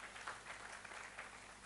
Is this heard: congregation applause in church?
yes